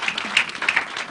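A studio audience at a family radio-TV programme breaks into brief, lively applause, a burst of scattered hand claps lasting about a second.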